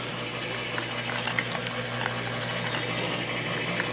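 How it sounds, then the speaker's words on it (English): A model OHCS engine's small gearbox shifts into second, reverse and first, giving light ratcheting mechanical clicks over a steady running hum. "where I can shift gears like right now and go in 2nd gear, reverse and 1st"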